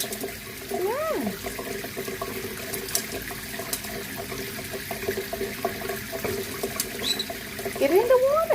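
Water runs steadily from a tap into a sink for a green-cheeked conure's bath, a constant close splashing stream, with brief high bird squawks near the start and again at the end.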